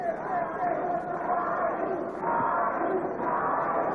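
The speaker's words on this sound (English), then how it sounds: "Crowd now chanting for Arturo Gatti." A boxing arena crowd chants for Arturo Gatti during his fight against Jose Sanabria, a steady roar of many voices with no single voice standing out.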